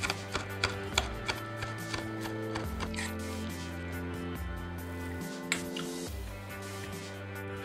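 A knife chops food for stuffed artichokes on a board, giving a run of sharp, evenly spaced close taps at first, then a few sparser cuts over a low steady background hum.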